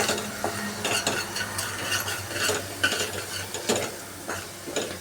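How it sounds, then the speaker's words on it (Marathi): Ground spice masala is stirred and sautéed in oil in a pan, with repeated scraping strokes of a spoon over a soft, continuous sizzle. "आता चांगलं परतून घ्या."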